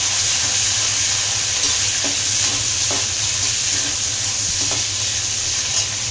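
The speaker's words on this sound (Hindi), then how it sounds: "ये देखिए मसाले मेरे तड़क गए हैं अच्छी तरह से" Whole spices crackling and frying in hot oil in a pan, a loud, close, continuous sizzle with occasional small pops and scraping stir sounds, no one speaking.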